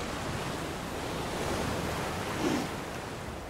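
Steady roar of surf and gusting wind on the open shore of Sandfly Bay, New Zealand, broadband and continuous with a slight swell near the end, no voices.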